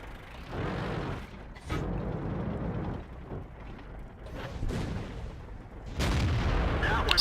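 Tank cannon fire and shell impacts ring out in a video game from an M26 Pershing, heavy booming blasts with mechanical clanks between them and a loud final burst, with no speech over them.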